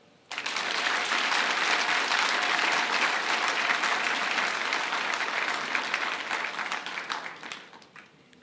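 An audience at a formal ceremony breaks into sustained applause, a dense wash of clapping that starts abruptly, holds steady for several seconds and then tapers off, with no talking over it.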